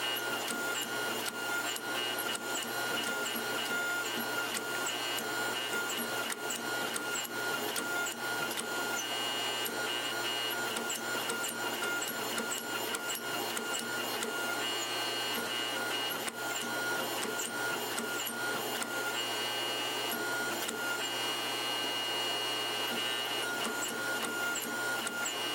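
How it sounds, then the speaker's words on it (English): A treadle-operated forging press with drawing dies tapers the steel pick end of a six-pound firefighter's axe, giving a steady, dense mechanical rasping clatter that runs unbroken throughout. "I do this by starting the taper on the press using my drawing dies"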